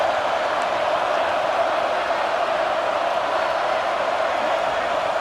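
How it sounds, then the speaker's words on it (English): A football stadium crowd roars steadily through a red-zone defensive stand in a Texas game, a dense, continuous wash of massed voices and noise holding at one level from start to finish, with no single voice standing out. "This crowd is trying to inspire this defense to make a big red zone stop."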